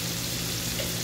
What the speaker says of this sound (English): my heat is on a medium to high. And you're just gonna saute that up